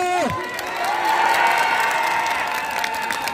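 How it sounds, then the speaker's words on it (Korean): Crowd at a political rally in Incheon's market breaking into louder applause and cheering, dense sustained clapping with whoops, a falling tone sweep at the start and a background voice threading through. "더 크게 박수 한 주세요"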